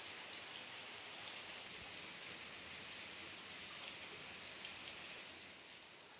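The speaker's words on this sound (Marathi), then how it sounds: "पावसाची रिपरिप चालूच आहे." Soft, steady rain patters continuously on surfaces near the Bhaje Caves by Lonavala, an even drizzle that stays constant and fades slightly at the end.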